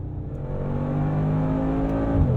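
A 2022 Mercedes-AMG G63 with its 577-hp engine pulls hard under acceleration, a loud, close rising growl with strong low harmonics climbing steadily, then briefly shifting near the end, with no talk.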